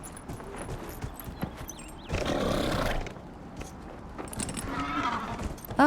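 Horse hooves clop steadily as a mount is ridden in Dragon Age Inquisition, a rhythmic gallop under game ambience and a swelling roar, with a voice speaking briefly.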